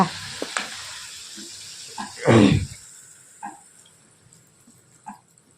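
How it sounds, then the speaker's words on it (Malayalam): Puri goes into hot oil in a home kitchen: a short burst of bubbling sizzle rises midway, set among scattered clinks and taps in a fairly quiet room. "എണ്ണ ചൂടായി എന്ന് തോ ആ ചൂടായി നമുക്ക് പൂരി പൊരിച്ചെടുക്കാം"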